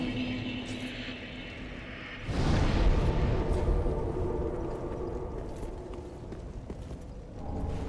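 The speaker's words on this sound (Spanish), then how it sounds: "El caballo de Blancy es mutante." A horse's hooves clip-clop in the video game Dark Souls 3, rising abruptly into a loud rumbling stretch amid heavy game sounds before easing off.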